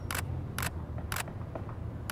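A camera shutter fires at 1/1600 second with the aperture at f/2.8 during a wedding shoot, four crisp, evenly spaced clicks over a low steady background hum.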